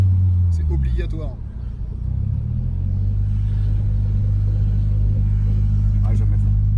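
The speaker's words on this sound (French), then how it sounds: "Le bruit de la Don Valve, il est phénoménal. On est obligé d'accélérer juste pour écouter la Don Valve" Loud, deep exhaust rumble from a car fitted with a Don Valve as it accelerates, a steady low roar that swells and holds, with voices talking over it.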